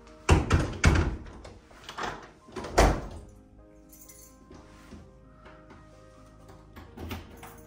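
Front door of a holiday villa in Ölüdeniz, Fethiye being opened on entering: several sharp clunks, latch clicks and rattles close by, followed by quieter handling sounds.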